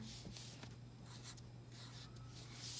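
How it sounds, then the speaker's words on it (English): A pencil draws around a star shape on paper, giving soft intermittent scratching strokes, close and quiet over a steady low hum. "I turn my paper so it's a little bit easier to draw around this star."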